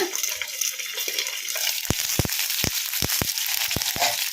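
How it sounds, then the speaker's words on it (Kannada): Stuffed chillies (mirchi) fry in oil in a covered pan, giving a steady hiss broken by sharp, irregular pops and crackles that grow more frequent toward the end, with no talking. "ಒಂದು ನಿಮಿಷ ಕಟ್ಟೆ ಮುಚ್ಚಿ ಫ್ರೈ ಮಾಡ್ಕೊಂಬಿಡೋಣ"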